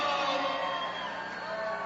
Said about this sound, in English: I want to hear some noise from the crowd